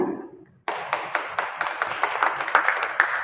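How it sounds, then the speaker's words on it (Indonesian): A crowd applauds at a city government working meeting in Bitung, North Sulawesi, after a brief fading voice, steady clapping with sharper individual claps standing out throughout. "Sekali lagi kita sambut dengan tepuk tangan yang mulia."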